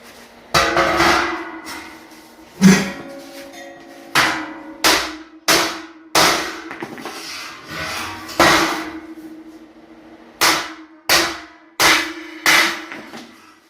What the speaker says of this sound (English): we're going to set it on the ground, we're going to stomp on it, or hit it with a hammer.